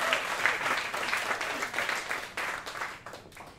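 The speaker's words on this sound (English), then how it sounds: "please welcome back and give a round of applause for Evan Zavada on the panel." A cabaret audience at Feinstein's/54 Below applauds with dense, steady clapping that swells and then gradually thins out toward the end.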